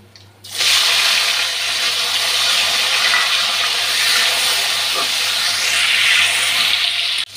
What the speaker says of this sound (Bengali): এখন টমেটোটা ভেজে নিচ্ছি